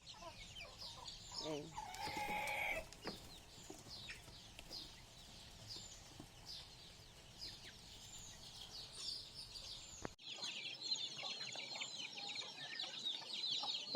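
Native chickens cluck and chatter in a yard after being let out in the morning, scattered calls fairly near over a quiet outdoor background with faint movement noises.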